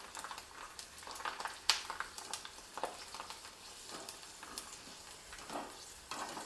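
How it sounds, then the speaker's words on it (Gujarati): Potato and sabudana chakri frying in hot oil, a soft continuous sizzle with bubbling crackles and occasional sharper pops, close but fairly quiet and with no talking. "તેલ ગરમ થઈ ગયું છે તો મૂરખા તળવા મૂકી દઈએ."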